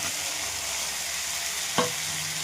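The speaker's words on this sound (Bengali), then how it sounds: "এবার ভালো করে এবার ভেজে নেব। এবার আলুগুলো দিয়ে দেবো ভেজে রাখা" Potatoes sizzle steadily as they fry in a pan with turmeric, a continuous hiss broken by one sharp clink of a spoon being stirred through them, close and fairly loud with no talking.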